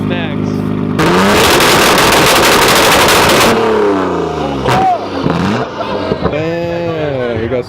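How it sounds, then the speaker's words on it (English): Nissan GTR Skyline with a straight pipe exhaust, idling, then a loud, raw, crackling rev blast for about two seconds, followed by falling and rising engine sweeps and pops close by. "This fucking GTR Skyline has straight pipe to the max."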